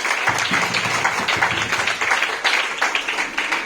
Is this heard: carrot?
no